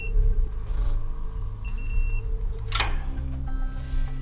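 A digital torque wrench beeps while the lower strut bolt of a Toyota 4Runner is tightened, with a steady tone and one brief scrape near the middle, all against a low workshop rumble.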